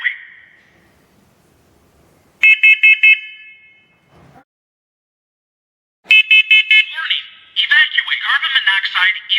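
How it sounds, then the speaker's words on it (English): A combination smoke and carbon monoxide alarm under test gives loud bursts of sharp electronic beeping, separated by silence and a brief rustle, then a synthesized voice warning plays over the pulsing tones. "Now that we're done testing our smoke alarm, it's working good"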